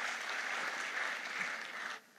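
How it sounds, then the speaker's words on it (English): Audience applause at a Moto G6 smartphone launch event in India, a dense sustained clapping from a large crowd that carries steadily for about two seconds, then cuts off abruptly near the end. "let's get a round of applause"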